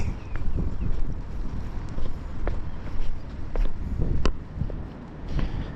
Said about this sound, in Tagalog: Magtampisaw na naman tayo sa putik.